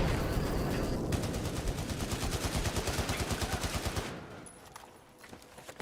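Sustained bursts of automatic weapon fire in a Battlefield 1 match rattle loudly and evenly for about four seconds, then cut off, leaving a few faint scattered sounds.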